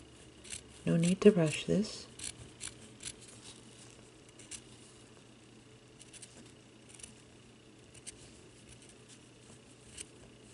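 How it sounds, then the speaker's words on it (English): Precision scissors snip slowly around the corners of a paper mitten ornament, a short burst of close, crisp cutting followed by faint scattered snips while a person speaks softly. "you're going to need your precision scissors for this because you have to get around the corners here"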